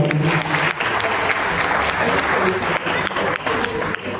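Wedding guests at a Maharashtrian sangeet night clap loudly for the bride and groom, a full, energetic burst of crowd applause lasting several seconds with some voices underneath.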